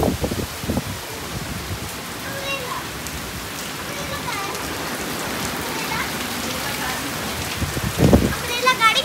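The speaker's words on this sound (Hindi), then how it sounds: "बहुत तेज बारिश हो चुकी है" Heavy rain pours down in a steady, dense hiss, with brief bursts of voices near the start and end.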